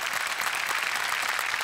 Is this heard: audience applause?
yes